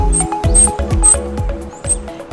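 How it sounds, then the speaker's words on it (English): Little monkey squeaks, several short high chirps repeating over a rhythmic musical backing, close and fairly loud with no talking. "Did you hear those little squeaks?"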